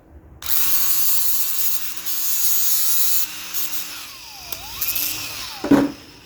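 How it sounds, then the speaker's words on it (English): A power grinder cleans up a bent metal kickstand part for a Baja Warrior minibike, whining loud and steady close by for several seconds, then the pitch sweeps and wavers as it works against the metal. "Take over the grinder."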